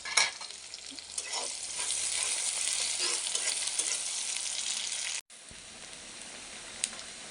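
Chopped onions fry in hot oil with a steady, close sizzle and occasional stirring scrapes, cutting out for a split second near the end before the hiss resumes.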